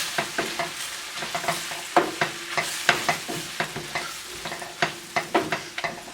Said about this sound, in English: I'm going to go ahead and add our noodles. Stir those in.